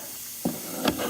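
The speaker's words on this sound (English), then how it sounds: "And then you're going to use this carburetor cleaner" Two short bursts of aerosol carburetor cleaner hiss from a spray can while a Fisher and Paykel washing machine motor is being repaired, the second burst sharper and closer.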